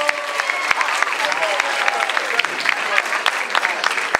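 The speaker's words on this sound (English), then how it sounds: "Round of applause for Lyndon Phillips Johnson." Audience at an Afrochella fashion show claps loudly and steadily, a dense wash of applause filling the whole stretch with a few sharp individual claps standing out.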